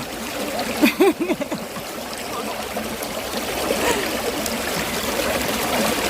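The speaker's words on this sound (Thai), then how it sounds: "นี่พี่น้องอยู่ติดลำธารเลย อยู่ติดลำคานลำธารเลยนี่" A stream runs right beside a spot where wild garlic is being picked in the UK countryside. Steady, moderately close rushing and trickling water fills the clip, with a brief voice near the start.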